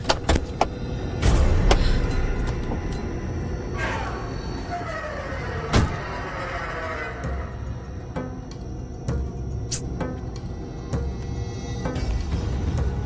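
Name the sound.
people getting out of a car, doors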